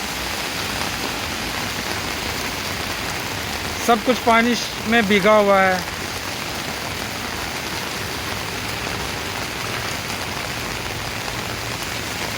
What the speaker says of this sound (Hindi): आज बहुत ज़्यादा बारिश हो रही है हांगकांग में